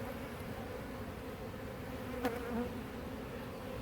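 Honey bees hum steadily around an open, crowded hive, a dense continuous buzz close by with one bee passing near the microphone.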